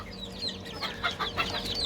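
Several chickens and a rooster cluck and chatter softly nearby in a coop, overlapping bursts of clucking over a low background hum.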